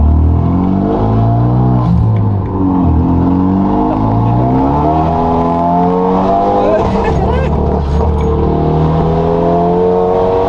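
A Renault Mégane 3 RS engine revs hard and climbs through the gears, loud and close, its pitch rising and dropping with shifts, while people talk over it.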